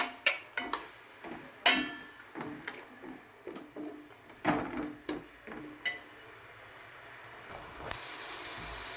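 A spatula scrapes and knocks through masala and rice being stir-fried in a pan, a series of irregular close scraping strokes with a faint sizzle underneath, tapering off toward the end.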